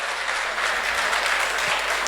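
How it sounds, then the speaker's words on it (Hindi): Steady, dense applause from a conference audience, continuous and even throughout with no voices over it. "बजाओ ताली"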